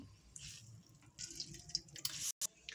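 Water squeezed by hand from wilted cabbage drips and squishes in short, close bursts for a Spicy Band Ghobi tikkia recipe, with soft wet splashes trickling between squeezes and no talking.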